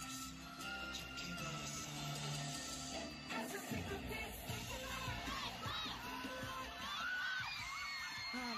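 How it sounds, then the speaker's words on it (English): A huge stadium crowd at a concert at the Rose Bowl screams and cheers continuously over distant amplified music, with rising shrieks and whoops throughout. "The screams, though."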